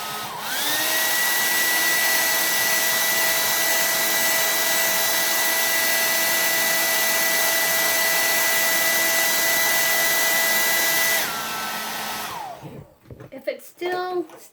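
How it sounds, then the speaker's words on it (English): A hair dryer runs steadily at close range for about eleven seconds while drying a watercolor painting of an island, then switches off and winds down, followed by a few faint handling noises. "I'm going to have to use the hair dryer for a minute"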